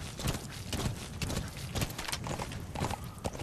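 Rhythmic horse hooves clip-clopping at a steady trot in Metal Gear Solid V, close and fairly loud against a noisy background.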